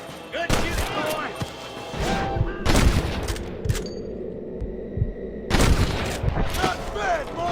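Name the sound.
gunfire in a shootout, Red Dead Redemption video game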